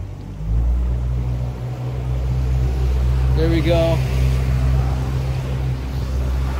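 A 2023 American Made Open 18 boat's outboard motor drones steadily and close as throttle is added on the water, the engine note holding loud and continuous while someone talks briefly over it.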